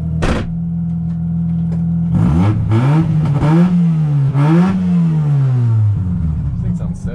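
A Mazda RX8 rotary engine idles with a steady hum, then revs up in several rising and falling surges before settling back to idle, loud and close.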